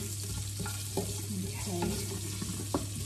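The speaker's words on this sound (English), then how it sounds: "So while that's sizzling away" Steady sizzling of spices and curry leaves frying in a pan with a few stirring scrapes, while someone briefly speaks a single word.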